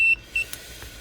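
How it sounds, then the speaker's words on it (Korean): Handheld bug and tracker detector, the Catch One-20, giving two short, high electronic beeps at close range in a quiet room, with a couple of faint clicks and no talk. "여기 탐지가 되면 삐 소리 나죠?"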